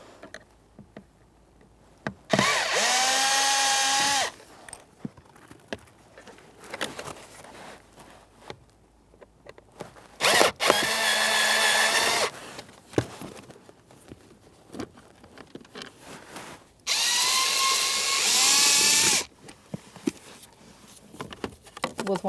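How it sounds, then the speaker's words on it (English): Torx bit driver backing screws out of a 2011-2020 Toyota Sienna blower motor assembly, three separate bursts of buzzing whir, each a couple of seconds long, with quiet handling clicks and rustles between them. "we're going to get our Torx bit and take the screws out"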